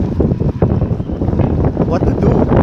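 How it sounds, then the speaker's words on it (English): Strong wind of about 54 km/h gusting at Karpaz Marina in North Cyprus in winter, loud buffeting roar against the microphone throughout, with someone talking over it. "54 kilometers per hour wind."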